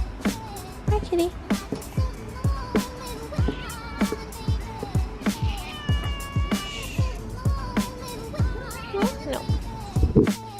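A cat meows over and over in quick, insistent succession, close and loud, the cries repeating almost rhythmically throughout.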